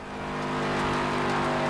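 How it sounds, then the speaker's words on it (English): A blown car engine in a racing video game gives a loud, rough, steady drone with a buzzing harmonic tone that swells in the first moments and then holds without pause. "The engine is blown."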